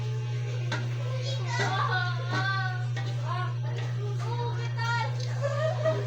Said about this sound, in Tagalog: Maingay yung mga bata.